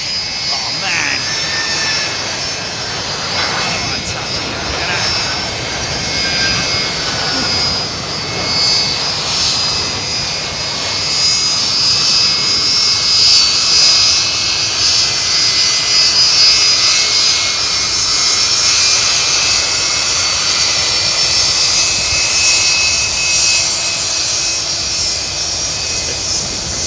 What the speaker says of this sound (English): Oh, listen to this beautiful aeroplane